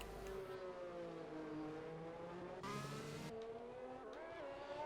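Race car in a sim racing game driving out onto the track in China, a steady rising engine whine with gear-change dips and a brief burst of noise midway, heard alone without talk.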